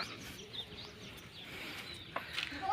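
Faint, scattered sparrow chirps on Mahakali Mata hill against a steady outdoor background hum, with a few brief tweets standing out near the end.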